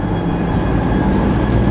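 A Super Voyager passenger train roars past close by in England, a loud continuous rumble of wheels and engine with no voices.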